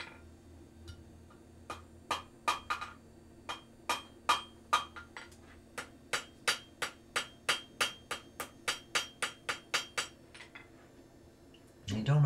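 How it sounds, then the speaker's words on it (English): A hammer strikes hot iron while an iron handle is forged, about two dozen sharp metallic ringing blows in a steady, fairly quick rhythm, close and moderately loud, with a brief louder clank at the end. "working the hammer round in circles, round from one side to the other"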